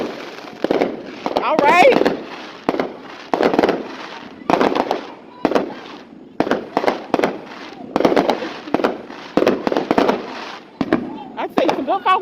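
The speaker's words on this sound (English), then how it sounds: "I'd say some good fireworks, they worth the investment" Consumer fireworks burst in rapid, crackling volleys, loud and close, repeating in bursts with short gaps between, while a voice speaks briefly over them.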